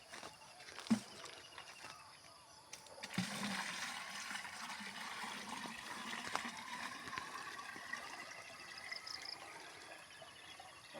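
Water poured from a watering can onto durian plants in a home garden, a thin steady splash and trickle running for several seconds after a couple of sharp knocks, fairly faint and with no talk.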